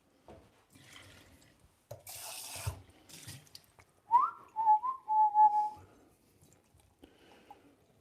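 Hot water runs from a tap into a sink, a broadband gush lasting about two seconds near the middle, followed by a loud whistling tone. Someone talks quietly before and after it.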